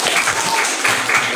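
Classroom of children clapping together in a lesson, a short burst of dense, lively applause, close and fairly loud.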